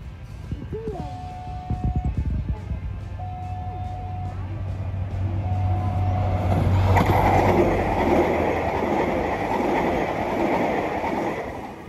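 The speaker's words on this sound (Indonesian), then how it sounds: "kereta api Bandara Merah sudah melintas kembali di depan kita" The red Bandara airport train passes near the Sedayu level crossing, with a crossing bell and a horn sounding before a loud, steady rush of wheels and clatter as it goes by, while a voice talks early on.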